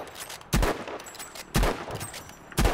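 Gunfire aimed at the player in Battlefield 5 (video game): three loud, sharp shots about a second apart, each cracking close by and trailing a brief rumble.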